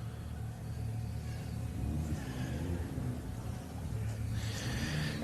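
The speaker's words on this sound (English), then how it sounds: "And the car's back underway now, under its own power." An off-road rally car pulls away after a gentle rollover at an off-road adventure park, its engine rumbling low and steady at moderate distance with a slight rise in revs, set against outdoor ambience.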